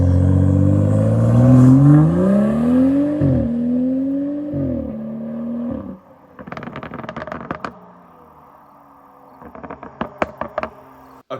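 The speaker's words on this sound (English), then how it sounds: "this is the aftermarket downpipe with a muffler delete and then this new Flowmaster resonator that I got off Amazon" BMW 335i with N55 engine, aftermarket downpipe, muffler delete and Flowmaster resonator: a loud, near exhaust rising and falling through several revs, then settling into a rough idle broken by bursts of crackling burble pops.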